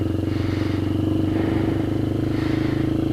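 A Kayo MR150 dirt bike engine runs after being started without the choke, a steady low throbbing idle with a rapid even pulse and a faint mechanical clatter, close by and unbroken for the whole stretch.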